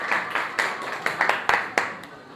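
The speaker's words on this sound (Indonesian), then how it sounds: "Tepuk tangan." An audience claps after a group presentation in a classroom discussion, giving a short scattered round of distinct, fairly close hand claps that trail off.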